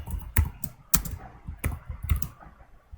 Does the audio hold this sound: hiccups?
no